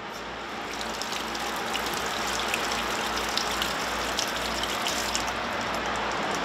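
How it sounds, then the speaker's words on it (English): Water runs steadily from a turned-on tap in a house whose filter burst, a continuous loud gushing hiss with no talk over it. "Look, if I turn the water on,"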